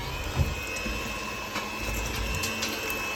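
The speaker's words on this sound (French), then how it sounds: "on met la lait dans la préparation sec et on fait le batteur" An electric hand mixer beats corn dog batter after milk is added to the dry mix, giving a steady motor whir with a thin whine and a few small knocks.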